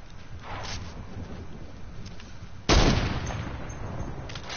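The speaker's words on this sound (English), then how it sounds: "I almost sniped someone in the head." A sniper rifle fires once in a shooting video game, a sudden loud boom that decays slowly, set against a steady low game soundscape with faint clicks, and no voices.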